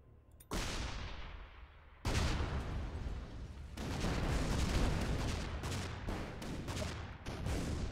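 Shellshock Live tank artillery fire in a multiplayer match, heavy booming blasts rolling into sustained dense barrage noise, with a short quiet gap before a first burst and a second louder onset around two seconds in.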